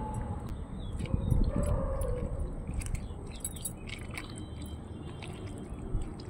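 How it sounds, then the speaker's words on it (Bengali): Chicken pieces being hand-mixed with salt and Kashmiri chili powder outdoors, a close, continuous wet squishing and squelching of meat with light clicks, steady throughout with no talking. "এখন সমস্ত কিছু একটু সময় নিয়ে ভালো করে মেখে নেব, যাতে সমস্ত মাংসের টুকরোর মধ্যে লবণ মশলা সমস্ত কিছু সুন্দরভাবে চলে যেতে পারে"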